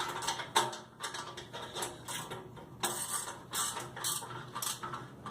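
Ratchet clicking in quick bursts while tightening the four top bolts on a GRIT Freedom Chair, a close mechanical rattle with short pauses between strokes and no talking.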